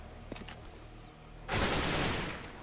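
Shotgun blasts in the video game CS:GO on the Inferno map, a sudden loud burst of gunfire midway that rings on and fades slowly after quieter game sounds.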